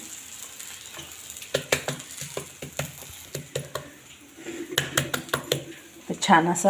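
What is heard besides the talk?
snack being roasted in a pan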